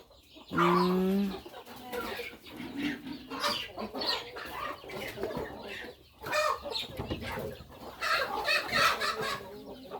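Chickens cluck repeatedly at close range, with a rooster-like call near the start and overlapping bird chatter throughout.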